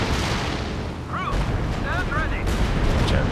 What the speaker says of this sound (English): we've got a Werfer strike coming in now as well